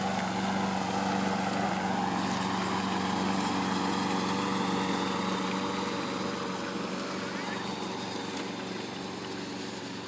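A lawn mower being pushed across grass, as a child does while mowing like a parent, gives a steady, fairly loud mechanical drone and whir that holds without a break for about ten seconds.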